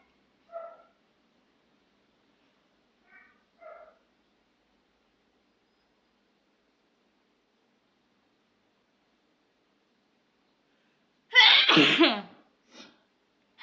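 A woman's forceful sneeze erupts loud and close after several seconds of near silence broken by a few faint small sounds, with a brief softer sound trailing after it.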